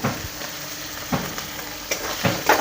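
Chopped tomatoes hit a hot pan while cooking a Bengali potato-prawn curry, giving a steady close sizzle with a few louder stirring scrapes and bursts of frying hiss, no talk.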